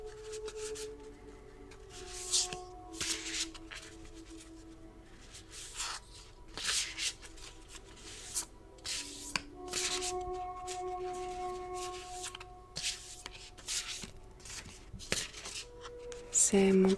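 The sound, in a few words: shuffling oracle cards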